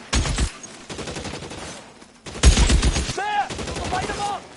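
Gunfire in L.A. Noire breaks out in loud, sharp bursts, with a pause and then a heavy renewed volley under brief shouted talk.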